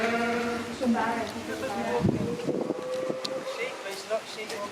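Sheep bleating repeatedly on a farm where alpacas and other animals are kept, wavering calls overlapping at close to middle distance, with people talking and moving around throughout.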